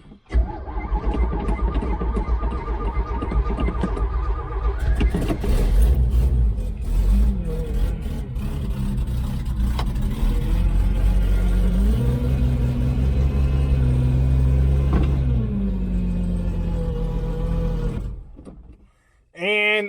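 A 1981 Chevy C30 truck that sat unused for a year cranks and fires up, its engine revving loudly and rising and falling in pitch several times before cutting off abruptly near the end.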